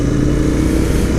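A motorcycle engine, either a Harley or a Royal Enfield, runs loud and close in a continuous throaty roar as it is revved out.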